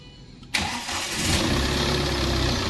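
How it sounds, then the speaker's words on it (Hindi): A Tata Safari Storme diesel SUV cranks and catches with a sudden burst, then settles into a steady, loud close-up idle rumble. "गाड़ी तो स्टार्ट हो गई है"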